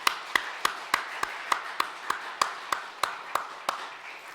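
A church congregation claps together in a steady, even rhythm, about fourteen sharp, evenly spaced claps at a moderate distance and fairly quiet.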